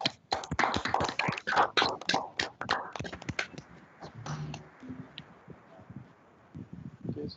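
Scattered clapping comes through several unmuted microphones of online attendees at a conference paper session, with crisp, uneven claps for about three seconds that thin out to a few faint claps over low background hiss.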